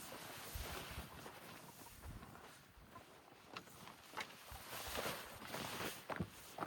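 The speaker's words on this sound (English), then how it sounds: "the wind is coming from the mountain now" Wind blowing down from a mountain in a hot desert, a continuous rushing gusty buffeting against the microphone with irregular louder gusts, no talk.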